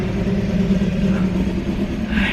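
An old-fashioned car rumbles past nearby, its engine a steady low drone. The sound holds even and loud for the whole stretch, with no voices.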